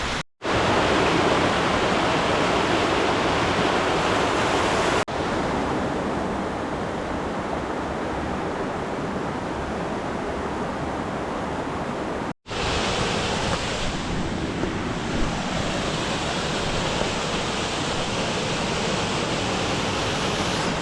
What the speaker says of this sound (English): This is the upper blue waterfall.